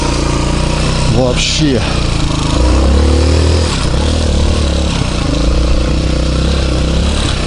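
A Honda MX-125 moped engine idling and revving nearby, a rough buzzing motor with rising and falling revs, while someone talks over it.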